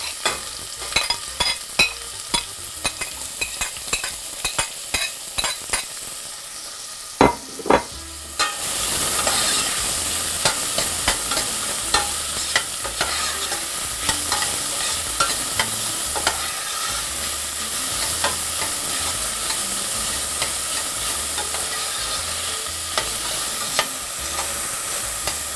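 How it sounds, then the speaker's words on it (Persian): A metal spoon scrapes and stirs in a pan, then a loud steady sizzle takes over as onions hit hot oil and keep frying with occasional clinks. "روغن ما داغ شد، پیازمون رو به روغن اضافه میکنیم."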